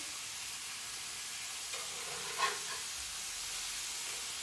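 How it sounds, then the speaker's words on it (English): Salmon fillet just flipped in a hot pan with corn added, giving a steady broadband sizzle throughout, fairly quiet and even, with a brief louder crackle near the middle and no talking. "So it's now time to go ahead and flip my salmon"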